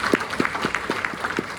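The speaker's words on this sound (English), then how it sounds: "So once again, give her another round of applause." A small audience at a community meeting claps in a brief, fairly sparse round, with distinct individual hand claps audible at a brisk, slightly uneven rhythm.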